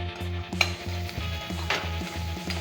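Onion frying in a pan before raw jackfruit goes in, a steady sizzle with occasional scraping stirs and a faint rhythmic mechanical hum beneath, no voices.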